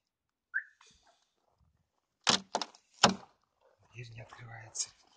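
A car door frozen shut at -22C is yanked several times, giving sharp thunks and rattles amid quiet pauses, with a voice heard briefly near the end.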